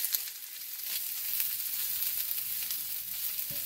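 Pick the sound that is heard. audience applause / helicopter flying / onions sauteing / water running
onions sauteing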